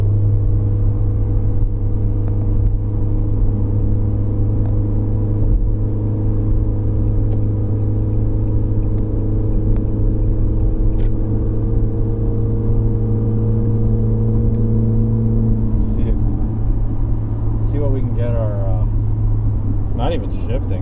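A 2016 Kia Soul 2.0L engine holds a constant drone at 3,000 RPM without shifting while driving, a loud steady hum and rumble from inside the cabin that barely changes, with a few faint clicks late on.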